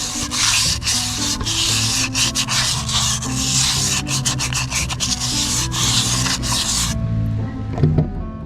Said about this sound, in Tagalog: kukuha kayo ng liha. Tapos yung kanyang drum brake. Ilihain natin yan.